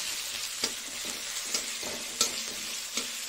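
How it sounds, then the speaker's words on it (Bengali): A prawn filling sizzles steadily in hot oil while a spatula stirs it, giving a constant close frying hiss broken by light periodic scrapes and taps against the pan. "এটা একটু নেড়ে চেড়ে নিই, নেড়ে চেড়ে একটু ভাজা ভাজা হয়ে গেলে নুন রেড চিলি দিয়ে দেবো"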